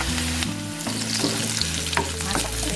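Eggplant stir-fries in a pan with a little oil, giving a loud, continuous sizzle broken by scraping and clattering as the pieces are stirred. No voices are heard.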